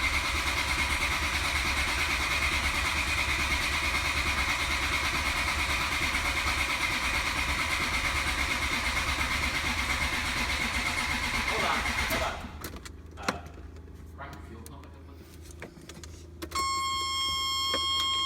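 A 1997 Ferrari F355 Spider with a Motronic 5.2 engine runs loud and steady up close through a service. Near the end it cuts to quieter clicks, and then a starter catches and the engine fires again.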